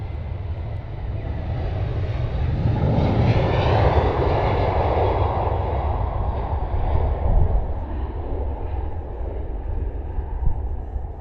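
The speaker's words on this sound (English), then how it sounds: "We have got another bizjet waiting to go out after this." A business jet roars steadily at London Stansted Airport, its loud engine rumble and broadband whine swelling then slowly easing as it moves across the airfield, with no talk over it.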